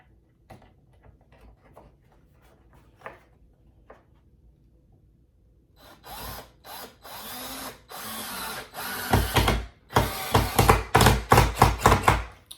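Soft clicks and taps, then a power drill whirs in bursts as it drives a screw into wood without a pilot hole, growing louder and choppier toward the end.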